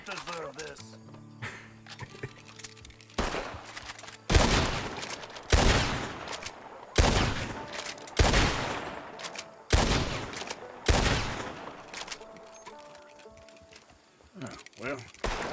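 Gunshots in Red Dead Redemption 2 at a shooting range, about eight loud, evenly spaced cracks with ringing decay, preceded by quieter clatter and faint background voices.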